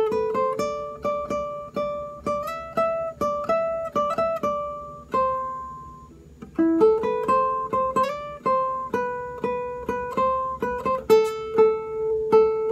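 An acoustic guitar picks a melody phrase, a clear single-note line with repeated notes and short runs up and down the neck, played close and alone at a relaxed pace.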